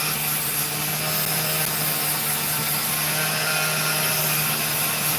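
An opal being ground on a lapidary wheel, giving a steady, continuous whirring grind with a constant hum that holds level throughout, with no voices.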